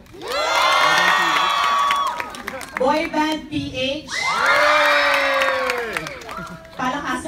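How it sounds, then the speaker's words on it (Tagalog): A large crowd at a live promotional show with a boy band cheers and screams in long loud waves, with some clapping mixed in. An announcer's voice cuts in between the bursts. "palakasan daw ng palakpak"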